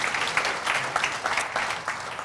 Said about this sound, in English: I would like us to give every single woman in the room a magical round of applause for everything you do.